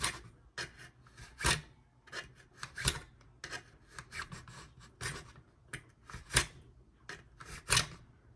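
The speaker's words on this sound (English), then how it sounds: "we're going to cut down into it little bits at a time" A file rasps and cuts in small bites into the body of a scale-model Dracula hearse, with repeated close, irregular scraping strokes separated by short pauses.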